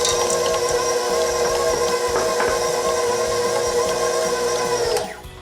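An electric mixer whirs through potato chip cookie dough with butterscotch chips, a steady, close motor hum with faint rattling that runs continuously for about five seconds, then winds down and stops.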